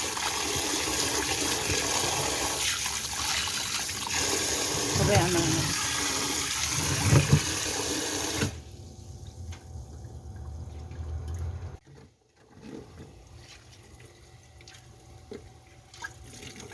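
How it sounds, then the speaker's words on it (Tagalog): Cold tap water pours loudly into a bowl or sink for about eight seconds while blanched spinach is rinsed. The flow then stops, leaving faint drips and handling noises, and someone speaks briefly. "Hugasan ulit ng malamig na tubig."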